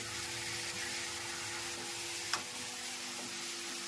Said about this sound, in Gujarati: સરસ મજાનો ભાજીનો વઘાર થઈ ગયો છે